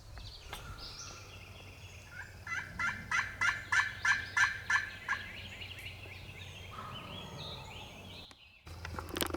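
A wild turkey gobbles from the spring woods of Virginia: a rapid run of about seven rolling calls, distant and moderately faint over steady outdoor ambience.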